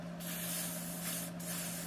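Aerosol spray can misting lubricant onto the cable pivot points of a Craftsman riding mower, two close continuous hissing bursts with a brief pause between them.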